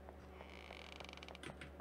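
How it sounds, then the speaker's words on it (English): A door creaks in an RPG Maker horror game, a faint, brief drawn-out creak with a mechanical rattle, heard alone against a low ambient hum. "I literally heard a door noise."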